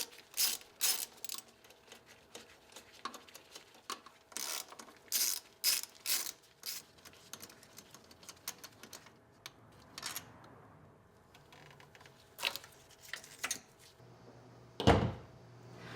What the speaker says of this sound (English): And now it's time to unbolt and remove the old throttle body.